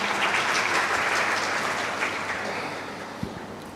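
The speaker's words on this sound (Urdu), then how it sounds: "کے لیے تالیاں۔" An audience at a religious and higher education award ceremony claps steadily and loudly, a dense wash of applause that slowly fades, with no talking over it.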